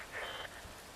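Rain falling in the video game Metal Gear Rising: Revengeance, a soft steady patter with a brief louder swell near the start, quiet and without voices.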